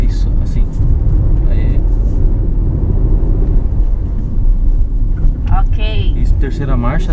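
A 2017 Volkswagen Golf 1.0 TSI turbo engine drones steadily while accelerating through a curve, with a constant loud cabin rumble throughout and a voice talking over it.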